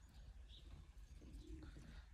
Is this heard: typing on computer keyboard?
no